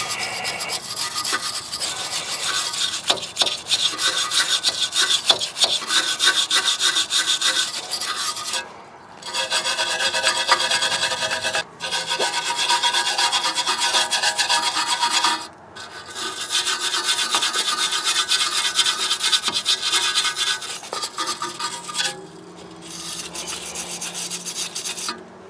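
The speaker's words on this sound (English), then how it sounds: "we're going to start by wire brushing them and then brake cleaning them." A wire brush scrubs the parking brake parts of a Nissan Titan in continuous, close, harsh scraping that runs for long stretches with only a few brief pauses.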